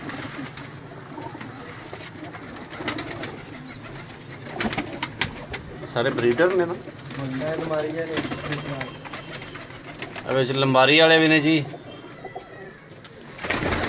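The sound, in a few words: Neel Dumba breed pigeons cooing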